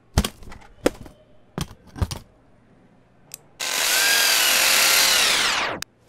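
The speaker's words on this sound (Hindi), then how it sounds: "जहाँ पर मैंने मार्क किया है वहाँ पर अच्छे से ड्रिल कर दो।" A power drill drilling at a marked spot: several sharp knocks and taps first, then a loud, continuous high whine that lasts about two seconds and stops abruptly.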